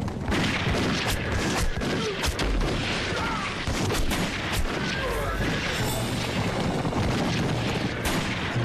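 Heavy gunfire and artillery booms in a mountain battle against Japanese troops, dense overlapping shots and blasts filling the whole stretch, loud and continuous with shouting voices faintly under the barrage.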